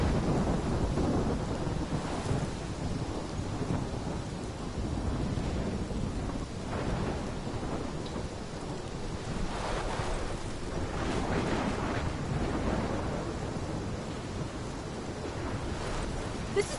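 A storm rages in the video game Life is Strange, with dense rain, gusting wind and low rumbling thunder filling a continuous, heavy wash of sound that swells and recedes without letting up.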